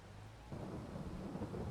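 Rain in a farming video game, a faint hissing downpour with a low rumble like distant thunder swelling after the first half second, no voices.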